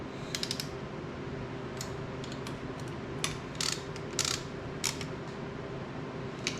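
Ratchet turning the crankshaft of a Yamaha YFZ 250F dual overhead cam engine during valve adjustment, giving a few short clicking bursts over a steady hum of background noise, close and fairly quiet.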